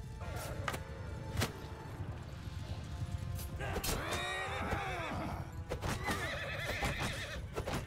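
A horse in Mount and Blade 2 Bannerlord whinnies loudly twice, mid-clip and near the end, while hooves clatter and the thuds and clashes of battle continue around it.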